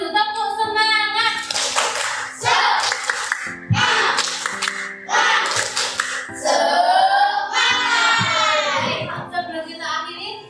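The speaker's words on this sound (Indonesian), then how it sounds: "Buat ancang semangatnya dulu, tepuk semangat." A primary school class claps in a patterned spirit cheer, bursts of unison hand claps alternating with children's voices chanting along in rhythm, close and lively.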